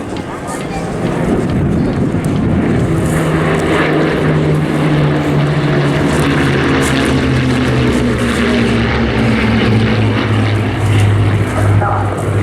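A Bristol Blenheim propeller aircraft flies in a D-Day 80th display formation at Eastbourne Airshow 2024, its engines droning loud and steady throughout, with wind buffeting the microphone and commentary over it.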